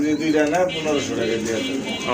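A pair of big Bombay pigeons coo in short warbling bursts close by, with someone talking over them.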